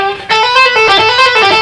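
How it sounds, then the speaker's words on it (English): A distorted electric guitar plays a quick rock pull-off lick of about six notes running up and back down, loud and close with sustained, buzzing tone. "That in itself is a real good pull-off."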